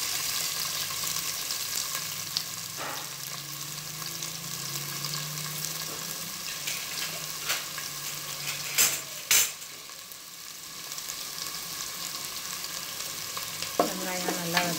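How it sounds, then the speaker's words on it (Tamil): Oil sizzles and crackles continuously as onions fry in a pan, with occasional stirring scrapes and clinks close by. "ஆயில் கொஞ்சம் ஆயில் ஊற்றுறேன், இப்போ வெங்காயம் போட போகிறேன்,"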